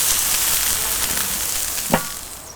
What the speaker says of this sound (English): So let's get it onto the grill.